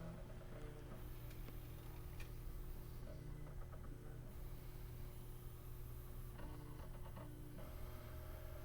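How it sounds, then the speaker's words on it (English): A Prusa MK3S 3D printer lowers its carriage and probes the bed with its pin, giving a steady low motor hum with faint stepping ticks and brief clusters of small clicks, close and fairly quiet. "it's lowering the carriage down, and it's going to use the pin to probe to check the bed"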